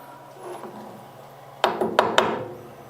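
A ZAY7045V milling machine cutting 1/4 inch mild steel rattles and shakes, with a steady mechanical hum and three sharp, loud knocks near the end, close and clear.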